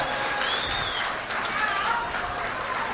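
Audience applause welcoming a guest onstage at a Nepali youth club musical programme in Jeddah, steady dense clapping from a crowd throughout, fairly loud and close.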